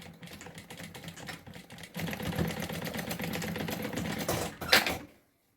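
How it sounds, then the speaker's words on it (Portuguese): A sewing machine stitches the corner of a fabric bag in quick, even runs of rapid needle clatter, starting soft and growing louder midway, then stopping with a sharp mechanical clunk near the end. "Eu faço essa quina e vou costurar minha caixinha de leite."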